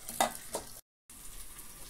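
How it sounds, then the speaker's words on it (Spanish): Tomato sautéing in a pan for an herb-flavored base, a soft frying hiss with a couple of brief stirring scrapes, then a short silent gap before the quiet sizzle resumes. "ya se está sofriendo mi tomate"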